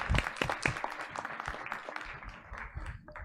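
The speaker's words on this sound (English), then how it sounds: "let's give them a round of applause" A board of education meeting audience applauds with a quick burst of distinct, close hand claps that continues for a few seconds and then tapers off.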